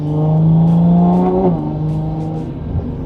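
Toyota Supra A90 with a Magnaflow X-Mod active exhaust pulling on the road, a loud steady engine drone that rises in pitch and then drops as it shifts, close and with no voices.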